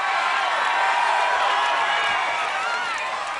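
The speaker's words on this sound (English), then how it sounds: "And listen to this crowd." A large arena crowd roars and cheers during American Ninja Warrior's Los Angeles Finals, a dense, loud, continuous wall of cheering with a voice audible over it.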